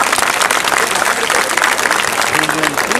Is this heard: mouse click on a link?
no